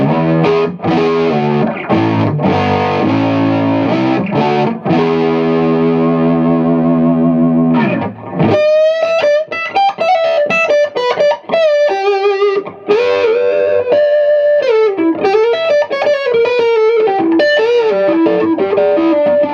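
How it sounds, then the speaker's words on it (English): PRS 58/15 Custom 24 electric guitar on the neck pickup through a gain setting, thick and warm overdriven tone, strummed chords then a sustained single-note melodic line, loud and close with no talk. "it's got this really thick, warm, sort of organic neck pickup sound"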